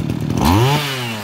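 Kawasaki TG28 small two-stroke engine giving a single quick rev, pitch sweeping up then settling into a loud, close, buzzing idle.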